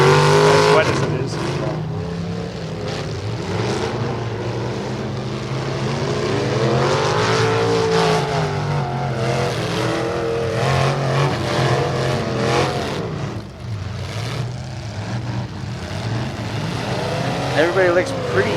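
Race cars at the 2019 Bash For Cash event run laps on a soaking wet track, engines droning and rising in pitch as they rev and pass, loud and continuous, with voices talking over them.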